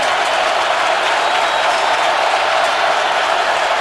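Stadium crowd roaring at a Steelers vs Ravens football game, a dense, steady wash of cheering and noise without a break, loud and unbroken throughout.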